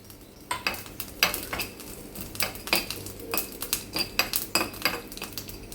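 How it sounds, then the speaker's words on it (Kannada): About ten peppercorns and half a spoon of cumin fry in ghee in a pan, under a quick, rhythmic series of metallic spoon scrapes and clinks and a light sizzle close by. "ತುಪ್ಪ ಹಾಕಿ ಕಾಳುಮೆಣಸು ಮತ್ತು ಜೀರಿಗೆ ಇಟ್ಕೊಂಡಿದ್ದೀವಲ್ಲ ಅದನ್ನು ಫ್ರೈ ಮಾಡೋಕ್ಕೆ ಹಾಕ್ತೀನಿ"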